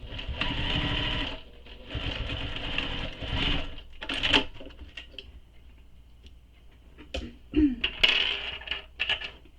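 A sewing machine stitches a Nora bag in close, loud bursts of rapid mechanical whirring, pausing between runs, with small clicks and handling taps in the quieter gaps.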